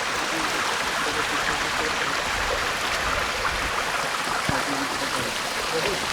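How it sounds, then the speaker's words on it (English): A small waterfall, more like a narrow drain of clean water, pours steadily with a dense, even rushing hiss that stays close and loud throughout with no pauses. "So there is a waterfall, just small waterfall or small drain I would say"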